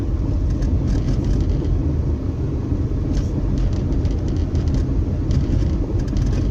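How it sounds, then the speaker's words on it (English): A 1999 Honda Civic VTi on the move gives a steady low rumble of tire roar from inside the cabin, even and unbroken, with no voices over it. "The only noise I can hear is of the tires"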